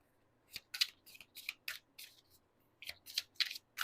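A deck of Enchanted Path Oracle cards being shuffled close by, quiet irregular bursts of papery riffling and sliding with a brief pause midway.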